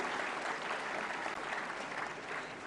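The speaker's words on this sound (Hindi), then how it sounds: "आपकी जोरदार तालियों का उत्साहवर्धन इन बाल कलाकारों के लिए" A big crowd at a film award ceremony claps steadily for child actors, a thick, even wash of applause without pause.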